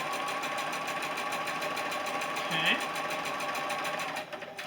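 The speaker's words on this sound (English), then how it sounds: "Make sure my sewing machine's working." A sewing machine stitching a quilt block whirs steadily with a rapid mechanical rhythm, close by, then stops near the end; a voice speaks briefly over it.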